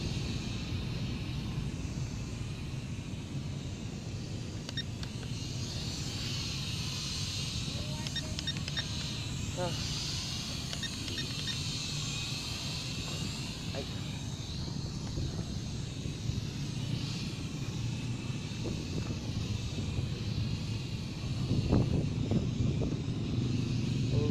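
A drone at full throttle outdoors at Government Center, Bacolod City, in strong wind makes a continuous high-pitched motor whine with steady rushing wind noise that holds for the whole stretch.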